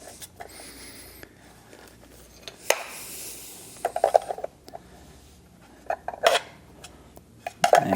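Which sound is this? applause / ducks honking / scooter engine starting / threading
threading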